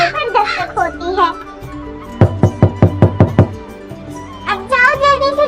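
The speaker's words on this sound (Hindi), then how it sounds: "इतने में दरवाजे पर दस्तक होती है" Cartoon door knocking: a quick run of about seven sharp, loud raps in a steady rhythm, set between stretches of animated character speech before and after.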